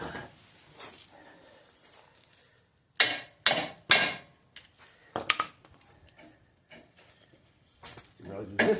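Sharp, loud hammer blows strike a stuck leaf spring shackle on a Ford Model A, coming in separate bursts and clusters between quieter stretches of workshop noise and a voice talking.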